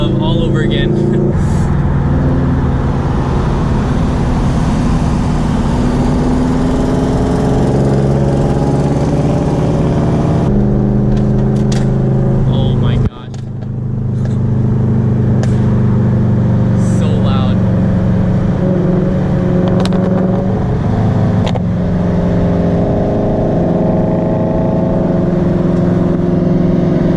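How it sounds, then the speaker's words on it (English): A car rides on freshly fitted new wheels, its engine droning steadily and loudly up close with a brief gear-change dip partway, a voice talking over the motor at times. "I'm about to see my car rolling for the first time pretty much with these wheels"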